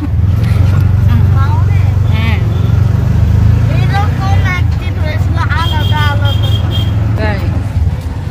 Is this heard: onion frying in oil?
no